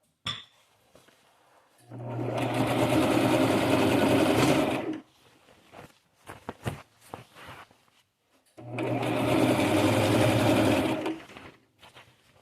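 A sewing machine runs in two bursts of steady mechanical whirring, each lasting a few seconds, with the table rattling underneath. Short handling clicks and clinks fall in the quiet gaps between the runs.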